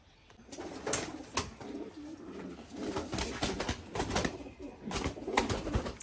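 Several pigeons coo softly and repeatedly close by, with scattered rustling and light fluttering in between.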